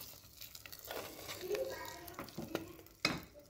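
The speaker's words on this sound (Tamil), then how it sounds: "கலந்து விட்டுடலாம்." Karupatti pongal with ghee-roasted cashews and raisins being stirred in a pot, soft scraping and mushy stirring strokes with faint sizzle, quiet and close, under a voice speaking.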